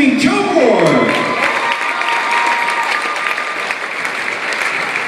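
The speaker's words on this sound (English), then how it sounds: "Let's hear it for the sharpshooting Joe Moore" An audience at a high school all-time top players ceremony applauds and cheers loudly and steadily for about five seconds, a dense wash of clapping with a few shouts rising above it.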